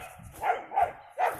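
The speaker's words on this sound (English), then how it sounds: "shut up, dogs!" Dogs bark three times in a quick, evenly spaced series, moderately loud and fairly close, with a faint low hum running underneath and no talking.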